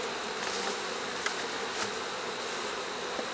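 Many bees swarm and buzz around an opened beehive being readied for winter, a dense steady drone close by with occasional louder passes.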